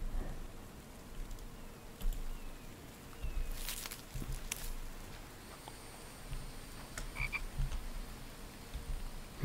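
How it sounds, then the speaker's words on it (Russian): Frogs croak in the survival game The Infected, sparse croaks at moderate distance over a quiet backdrop with faint rain-like patter and occasional footsteps. "Лягушки опять"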